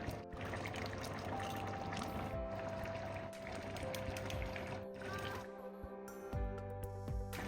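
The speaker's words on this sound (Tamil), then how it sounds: "முட்டையிலான உடச்சி ஊற்றப்போம்" Eggs are cracked and poured into a cauliflower and potato gravy in a pan, giving soft, quiet pouring and liquid bubbling sounds that run steadily with small shifts in texture.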